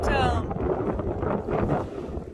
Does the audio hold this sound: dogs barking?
no